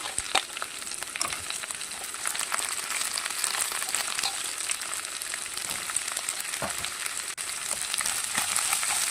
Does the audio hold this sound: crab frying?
yes